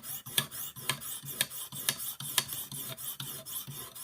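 A Rough Ryder knife blade is drawn across a Lansky sharpening system stone to smooth out earlier file scratches, giving about eight close, evenly spaced rasping strokes with nothing else heard.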